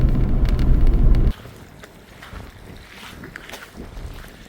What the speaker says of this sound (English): I'm sure this has got some pretty crazy sound on it with this wind.